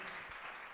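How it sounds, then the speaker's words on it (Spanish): An audience gives brief, soft applause for the participants of an afternoon Bible quiz, a short burst of distant clapping at low volume. "Damos un aplauso a todos los que participaron en esta tarde."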